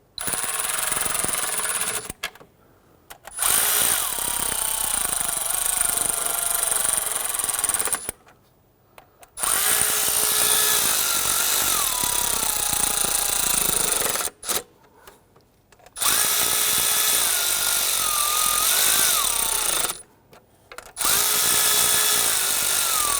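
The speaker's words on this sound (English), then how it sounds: "Now I am going to use a power tool to gently run them down" A power tool whirs while running down knock sensor bolts on a 2011-2017 Nissan Quest 3.5L V6, loud and close. Bursts last several seconds, separated by short pauses, with a high whine and a gritty, rubbing mechanical texture and no talk.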